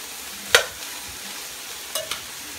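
A carrot tossed into a pan of vegetables and herbs and stirred, giving a few sharp scraping strokes: one near the start and a pair later, with a faint sizzle underneath.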